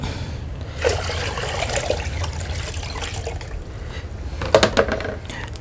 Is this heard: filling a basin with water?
yes